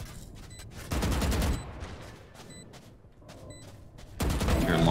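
Gunfire in the tactical shooter Valorant: rapid bursts of shots come in clustered volleys separated by brief lulls, moderately loud, with a heavier spray at the end.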